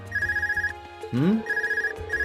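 An electronic phone in the video game The Legend of Heroes: Trails of Cold Steel trills in rapid repeated bursts, pausing briefly as a short rising vocal sound cuts in, then ringing again.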